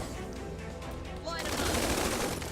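Riflemen open fire in the Tiny Metal video game, a dense burst of gunfire swelling over the last second, layered under a voiced unit callout.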